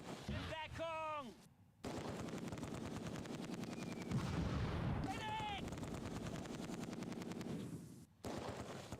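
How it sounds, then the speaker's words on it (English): Heavy gunfire and artillery in the Close Combat 2 war game, rattling bursts of fire and dull booms running almost continuously under brief shouted voices, with whistling and short breaks near the start and end. "We're under heavy fire."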